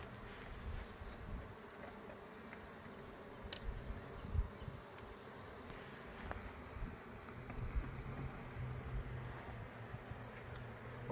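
Honey bees buzz in an open hive during a brood-frame inspection, a soft continuous drone with a few individual bees passing nearby.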